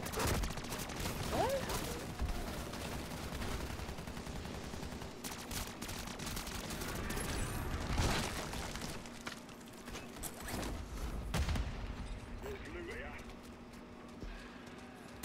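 Rapid gunfire rattles in bursts in Call of Duty: Modern Warfare III Zombies, fast crackling shots layered with clattering and game effects, while players talk over it.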